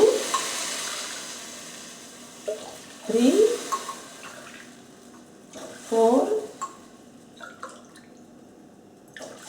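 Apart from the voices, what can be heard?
water poured into measuring glass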